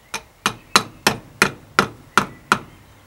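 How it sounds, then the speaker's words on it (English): A soft mallet taps the cap of a vintage Sturmey Archer GH6 front dynohub into place on a bicycle hub during servicing: eight evenly spaced, sharp knocks, close and distinct, with quiet pauses between. "Just use a soft hammer mallet."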